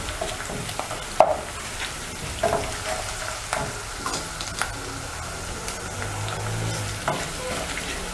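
Sukuma wiki being stirred as it cooks in a pan, a steady low sizzle with scattered clicks and scrapes of the utensil, close and without talk.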